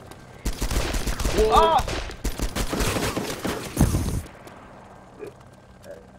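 Rapid gunfire in the video game DayZ rattles in a loud, sustained stretch before cutting off into near silence, while a player exclaims over it.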